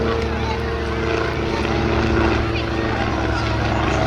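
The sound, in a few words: aircraft formation flypast, bunk bed pass at air festival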